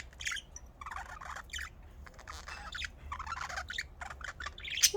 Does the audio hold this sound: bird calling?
yes